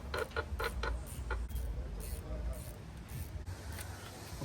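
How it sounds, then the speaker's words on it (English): A 1/4-inch ratchet clicks through a few short turns while snugging valve cover bolts on a 1998-2000 Lexus LS400, a quick run of close, crisp ratcheting strokes in brief bursts. "So I'm using my 1/4" ratchet, gonna do a couple turns."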